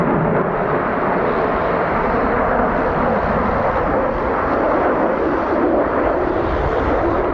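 Airplane flying an aerobatic display at the Farnborough 2004 airshow, including barrel rolls and a slow-speed pass, a loud continuous jet-engine roar that holds steady throughout with no voices.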